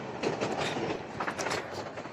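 Train wagons rumble by on a railway line close to a house in Gaibandha, a loud, dense roar marked by rhythmic clickety-clack wheel beats over a brief stretch.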